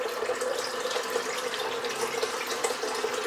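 A bathroom tap runs steadily into a sink during a wet shave, a constant close splashing stream of water with no speech over it.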